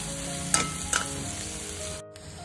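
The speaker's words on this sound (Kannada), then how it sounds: "ಆನಿಯನ್ ಆಲ್ಮೋಸ್ಟ್ ಫ್ರೈ ಆಗಿದೆ" Onions frying toward golden brown in a pan, with a steady close sizzle and a few sharp stirring knocks, briefly cutting out near the end.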